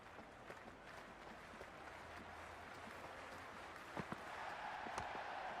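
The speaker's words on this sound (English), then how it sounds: "The crowd are making a heck of a lot of noise even before the first ball's been bowled" A cricket crowd at a World Cup India vs South Africa match makes noise before the first ball: a faint, distant, steady roar with scattered claps and whistles, swelling slightly near the end.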